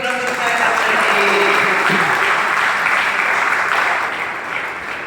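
A church congregation claps loudly together in sustained applause after a vow spoken before God, a dense continuous roar of hands filling the room, with faint voices mixed in and a slight easing toward the end.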